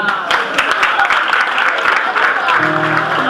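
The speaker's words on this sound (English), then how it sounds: "Clap for me." Applause from a youth seminar audience, a steady dense patter of clapping held for a few seconds at moderate distance, with voices mingling underneath and a speaking voice cutting in near the end.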